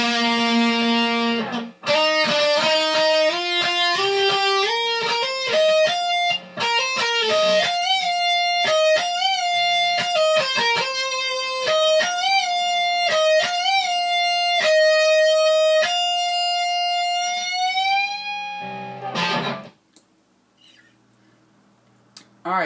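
Electric guitar playing the second half of a solo: a fast run of picked and bent lead notes with distorted tone, ending on a long sustained bent note that fades, then near silence.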